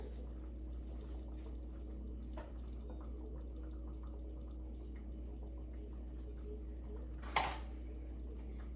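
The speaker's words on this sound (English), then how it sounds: "let me grab a spoon" Quiet kitchen handling as dishes and cutlery are shifted about, with faint scattered clinks over a steady low hum, then one sharp, louder clatter of a spoon against a dish near the end.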